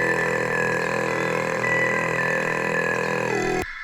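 Layered throat singing samples with EQ'd overtones in a major key, a dense droning voice with bright sustained harmonics sitting high above it, ending abruptly after a few seconds.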